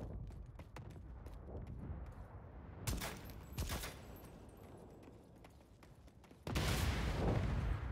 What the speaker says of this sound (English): Good explosions.